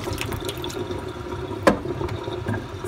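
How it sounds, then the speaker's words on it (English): Tap water runs steadily into a sink while a cucumber is rinsed, a continuous close splashing hiss with a brief sharper splash midway. "I'm gonna rinse this off."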